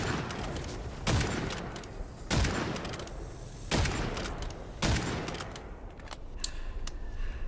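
Gunfire from the video game Witchfire comes in four loud, evenly spaced blasts, each with a booming decay, over continuous game ambience and without talk.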